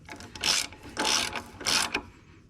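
Three even bursts of ratcheting clicks from a hand wrench snug the wheel bolts on a Case 1840 skid loader, close and clear with short pauses between them.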